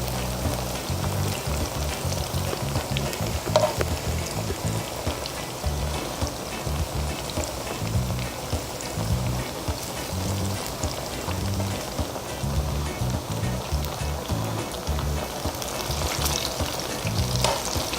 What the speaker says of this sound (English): show them that plantain frying in that oil, Chris